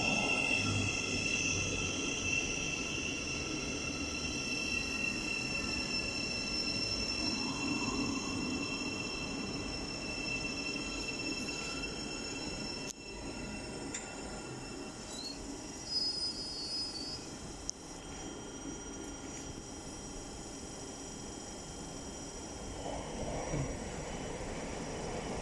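A Class 700 electric passenger train rolls into a station platform with a steady mechanical rumble, a high electric whine and occasional squeals from the wheels, sustained for a long stretch.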